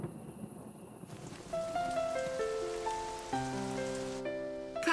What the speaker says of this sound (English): Looks like we're going to get some rain.